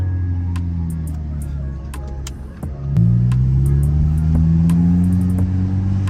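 A tuned Audi A4 exhaust drones low and steady with scattered crackling pops, then rises in pitch and volume partway through as the engine revs; loud and close, with no talking.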